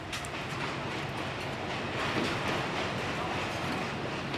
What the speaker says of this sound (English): the loco will have to run round to gain access to the secondary main line to Beja